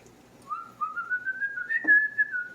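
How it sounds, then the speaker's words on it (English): A person whistles a short, wavering melody with one rising swoop, alone and close, while cooking pasta in a kitchen, against a quiet background. "that's me whistling"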